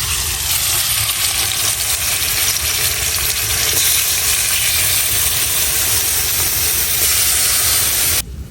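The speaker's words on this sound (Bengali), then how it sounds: "তো আমার তেল গরম হয়ে গেছে এখন আমি মাছগুলা দিয়ে দিতেছি" Small murala fish from a home pond hit hot oil in a kadai, setting off a loud, continuous hissing sizzle that holds steady before cutting off abruptly near the end.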